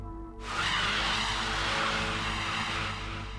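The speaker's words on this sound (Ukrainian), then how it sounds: "Це був ідеальний дрифт водія з повним знанням цього гірського перевалу." A car drifting through a corner on a mountain pass, with loud sustained tire squeal and engine roar kicking in suddenly and holding steadily to the end, close and dominant with no talk.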